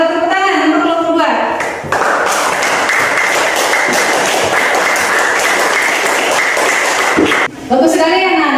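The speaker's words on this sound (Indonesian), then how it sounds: "Tepuk tangan untuk kelompok 2." A classroom of students applauds a student group, with loud, dense clapping filling most of the clip between spoken words at the start and end.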